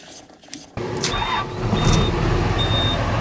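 An engine, manually wound and just refuelled, cranks briefly and catches, then settles into a steady running drone that grows slightly louder, with a few faint high squeaks over the top; no speech.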